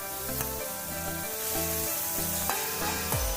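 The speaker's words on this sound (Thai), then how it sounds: "จากนั้นเราก็ผัดเส้นใหญ่นะครับ" Wide rice noodles stir-fried in a hot wok for chicken noodles, with a steady sizzle and repeated scraping strokes of the spatula, close and fairly loud, no talking.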